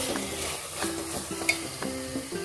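Sindhi guvar sabzi, a cluster bean curry with oil risen to the top, is stirred in a pan. Several rhythmic spoon scrapes sound close up over a soft, continuous sizzle.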